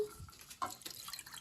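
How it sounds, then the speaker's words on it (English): Water pours into a bowl to make paper mache paste, a brief close splashing and trickling with light dripping, and no voices. "We're gonna pour the water in."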